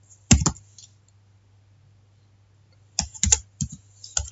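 Short bursts of clicky computer-keyboard typing, a quick cluster of keystrokes, a pause of near silence, then another rapid run of taps under a faint steady hum.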